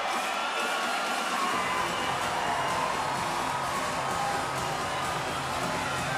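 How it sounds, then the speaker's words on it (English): A Bellator MMA arena crowd roars and cheers for fighter Ilima-Lei Macfarlane, a loud, sustained wall of cheering and whooping that swells early and holds steady throughout. "And what a reaction from this crowd."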